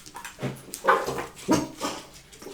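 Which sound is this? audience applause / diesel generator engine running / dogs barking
dogs barking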